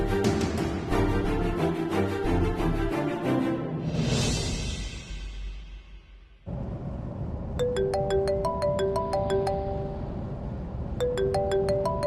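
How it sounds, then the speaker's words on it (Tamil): A mobile phone rings with an incoming call from a brother, a bright repeating melodic ringtone that plays in bursts over a steady background of music and room sound. "அண்ணன் ஃபோன் பண்ணுறாரு"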